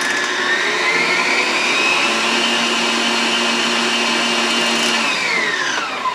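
Electric mixer beating eggs into lemon curd in a bowl, a steady loud motor whine with a pitch that climbs, holds, then drops, running alone without talk.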